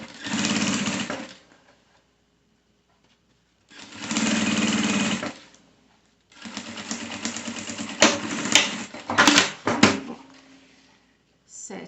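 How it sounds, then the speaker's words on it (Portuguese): Sewing machine stitching a 7 mm seam on fabric for a boxy zippered pouch, running in three steady bursts separated by pauses, close and loud, with a few sharp clicks and handling noises near the end. "e vou passar uma costura aqui nessa parte"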